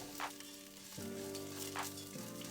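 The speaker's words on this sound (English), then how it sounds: "Once the oil is hot, we're gonna add the fideo." Fideo noodles sizzle and crackle in hot oil in a pot as they are stirred, a steady close frying hiss with a few stirring scrapes and no talking.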